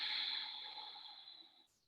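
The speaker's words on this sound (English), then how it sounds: "Yes, Ujjayi Pranayama." Slow, steady Ujjayi pranayama breath during a yoga session, a soft sustained airy hiss through the throat that holds evenly and then fades out, close and quiet with no talking.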